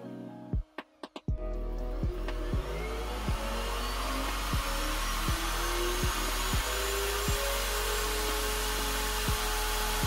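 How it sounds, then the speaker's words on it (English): A wood router shapes the top and bottom bases of a wooden lantern with a loud, steady high-pitched whine, broken by faint periodic ticks. It starts after a few sharp knocks as the tool spins up. "We then took our router to the top and bottom bases to give it a little bit extra flair"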